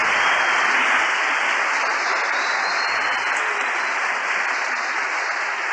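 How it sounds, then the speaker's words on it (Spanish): A church congregation applauds with loud, sustained clapping from a crowd that stays steady throughout with no talk over it. "Otro aplauso. Y ese sí grande."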